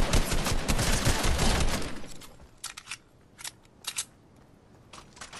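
Gunfire in the video game Fortnite: a dense burst of rapid shots up front, then scattered single cracks and short bursts trailing off, loud and close with no voices.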